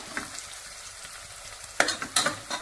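Onions crackle and sizzle in hot oil in a pan, roasting toward golden brown, with a soft steady fry broken near the end by a few sharper scrapes and clatters of stirring, close by and with no talk.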